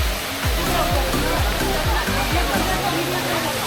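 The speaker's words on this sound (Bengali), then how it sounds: "বর্ষা মৌসুমে এই ঝর্ণার পানি প্রবাহ বৃদ্ধি পায়।" Rushing water from Himchori waterfall near Cox's Bazar, a steady loud broadband roar that continues throughout, with some low rhythmic thumps or handling bumps underneath.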